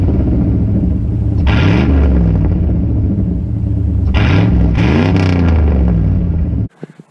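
A 1988 Pontiac Firebird Formula WS6 engine runs loud and close, a deep rumbling idle broken by two sharp revving blips that rise and fall, before the sound cuts off abruptly near the end.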